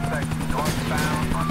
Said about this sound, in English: Man, I'm so good at flying helicopters.